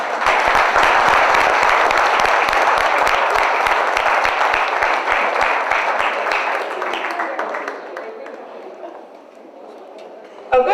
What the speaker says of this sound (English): And I think they deserve a round of applause.